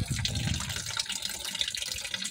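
Coolant pouring out of a car radiator during a thermostat job, a steady splashing trickle of liquid heard close up.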